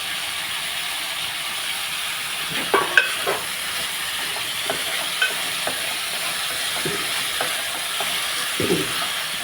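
Broad beans fry in a pan with coriander powder and chili powder, a continuous close sizzle broken by scattered scraping clicks as a spoon stirs them, with no talk.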